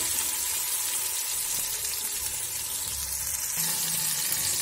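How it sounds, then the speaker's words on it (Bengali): Tomato and green chili frying lightly in oil for a mustard fish curry, a close, even, continuous sizzle that holds steady from start to finish. "টমেটো কাঁচা লঙ্কাটা একটু হালকা করে ভেজে নেব।"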